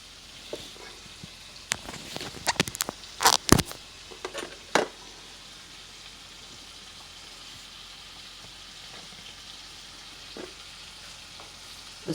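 Shrimp sizzle in a pan for a seafood pasta primavera, a soft steady hiss with a burst of sharp utensil clacks early on, then a quiet continuous sizzle.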